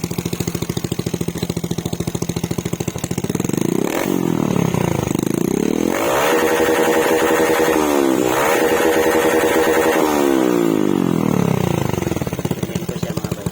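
A Suzuki Raider J115 Fi motorcycle, over 13 years old, is revved up to its limiter close by, its loud engine note climbing and falling in repeated surges between steady idle stretches.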